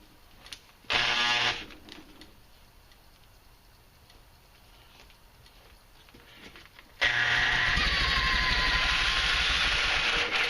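A homemade supercharged engine fitted with an aluminum manifold and sealed carb, heard in two loud bursts: a brief roar near the start, then a sustained steady running roar from about seven seconds on, close and dominant.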